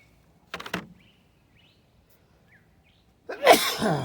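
A single sharp sneeze, preceded by a short sharp inhale, loud and close, with near silence before it.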